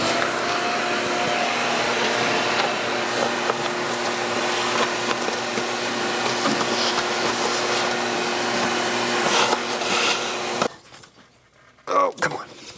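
Up close, a vacuum cleaner clears debris from the intake area of a small-block V8 in a Dart. Its steady, loud whine runs for about ten seconds, then cuts off, leaving a few faint knocks.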